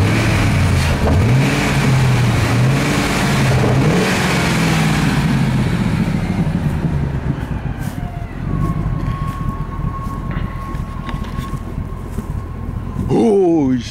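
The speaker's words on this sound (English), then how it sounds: "Look at it. Revving." A 2002 Ford F150 pickup with 195,000 miles, smoking heavily after a SeaFoam treatment, revs repeatedly up close in a neighborhood, the engine surging and falling before settling into idle, with a high whine and people talking over it.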